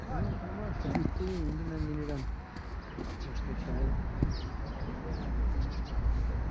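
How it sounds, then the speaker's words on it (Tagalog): Birds call and chirp in a seaside park, scattered faint chirps and coos under steady outdoor wind and someone talking nearby. "Maraming mga ibon dito guys."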